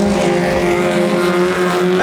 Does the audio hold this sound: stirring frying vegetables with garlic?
no